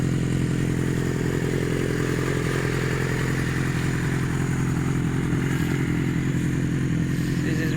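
A motorcycle engine fitted with its original exhaust and a top box runs steadily throughout at a constant idle, with a deep even rumble and light mechanical clatter, close and without speech.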